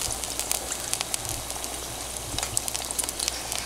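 Battered fluke fillet frying in hot oil, a close, steady sizzle with dense crackling pops and spatters throughout, no voices over it.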